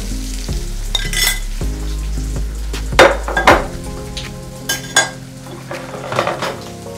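Crispy homemade hash browns fry in a pan with a steady sizzle, while pots, pans and cutlery clink and clatter in sharp bursts over the top.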